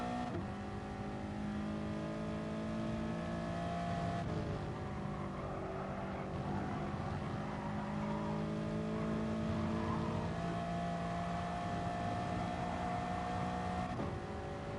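Race car engine at full throttle through chicanes in Gran Turismo Sport at Lago Maggiore, a steady loud whining drone with shifting pitch that dips briefly at gear changes and holds for the whole stretch, with no talk.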